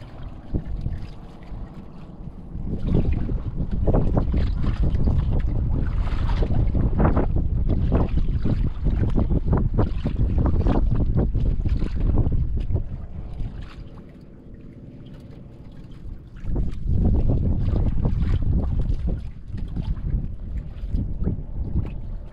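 A boat motor drones steadily on open water, loud and continuous, with gusting wind buffeting the microphone.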